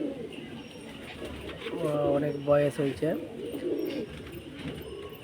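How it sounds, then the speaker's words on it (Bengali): A pair of old Madrasi racer pigeons in Howrah give soft, low, rounded coos close by, with a person speaking over part of it. "দেখো এই দুটো পায়রা দেখো"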